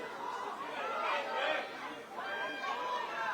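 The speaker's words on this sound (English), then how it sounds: "you can hear the shouts from the stand here that the crowd felt it was a penalty kick" Spectators in the stands at a women's football match between Queen's Park and Rangers shout and clamour for a penalty, a distant, swelling crowd roar with scattered voices rising and falling.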